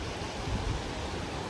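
A river flows below a Langtang trekking trail, heard as a steady broad wash of rushing water, distant and even, with no voices.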